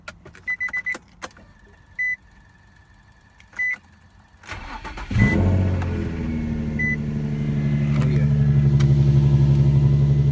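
An Infiniti G35 coupe with a VQ engine does a cold start: a few dashboard chimes and clicks in quiet, a cranking surge, then the engine catches into a loud, steady high idle that continues to the end.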